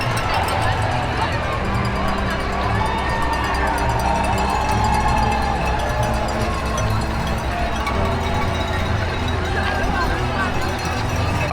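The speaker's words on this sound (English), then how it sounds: "you can hear the crowd noise coming from the streets of Manhattan" A dense, steady roar of spectators lines the New York City Marathon course through Manhattan's streets, with constant crowd babble, cheering and possible cowbells holding loud and unbroken throughout.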